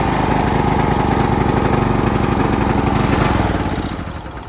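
A 30-year-old John Deere LX 176 lawn tractor engine runs loud and steady from close by, a continuous mower drone that eases off slightly near the end.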